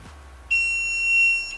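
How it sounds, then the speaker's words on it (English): A single clear electronic beep from an AnkerMake M5C 3D printer sounds, a high steady tone lasting about a second, crisp and close, with quiet around it. "that beep I guess just means that it has found it"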